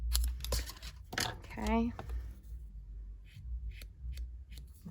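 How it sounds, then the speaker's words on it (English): Scissors snip the end of a homemade stamped card, a few crisp close cuts mixed in with someone talking and light paper handling. "I'm going to snip the end of this so it's just a little closer."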